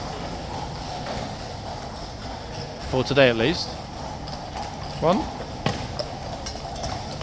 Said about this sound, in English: I can hear some clippy clops.